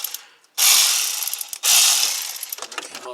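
A ratchet loosens 10 mm bolts on the water pump of a 2010 Cadillac CTS 3.0L, giving two long, fast clicking bursts up close and then a few slower clicks.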